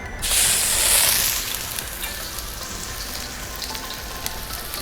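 Food dropped into a smoking-hot oiled wok over a 200,000 BTU jet burner for a Shin Ramen stir fry: a loud, bright sizzling burst that settles into a steady, close crackling hiss.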